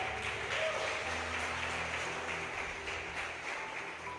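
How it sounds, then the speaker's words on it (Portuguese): A church congregation applauds during a family worship service, a steady, distant wash of many hands clapping together that holds at an even level and fades slightly toward the end. "Quem ama a Deus, dê um aplauso a Ele"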